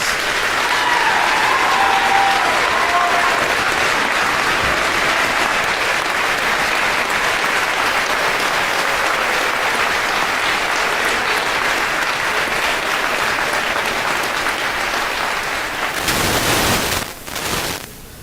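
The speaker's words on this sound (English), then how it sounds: "Let's give them a round of applause." A large crowd applauds at the 2021 Bloomfield High School graduation ceremony, with sustained, even clapping roaring on for about fifteen seconds before fading into scattered claps.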